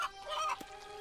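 A cartoon chicken in a farm setting gives a brief run of soft, close clucks, with one short click partway through.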